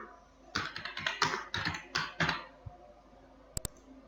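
Fingers type on a computer keyboard in a quick burst of close key clicks for about two seconds. A couple of isolated clicks follow after a pause.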